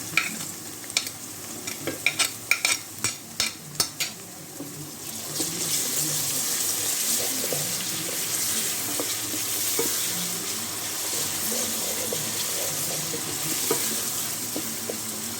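A few sharp clatters of a utensil against a pan, then a steady sizzle of garlic, ginger and softened onions frying that carries on without pause.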